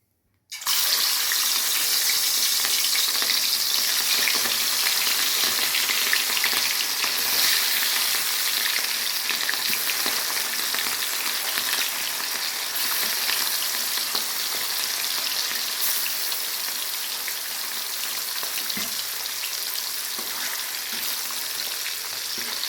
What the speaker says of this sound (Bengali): এরপর একে একে আমি মাছগুলো ভেজে নেব।